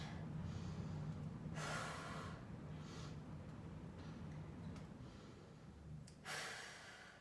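Slow, audible breaths in and out during a bodyweight forward-fold stretch, three drawn-out breathy exhales spaced a few seconds apart, close and fairly quiet over a low steady hum.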